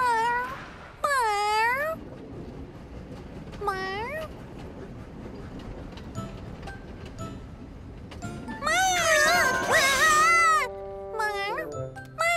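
A cartoon cat meows repeatedly in an animated children's show: several rising and falling mewing calls, with a longer cluster of overlapping meows near the end, set against a soft background bed.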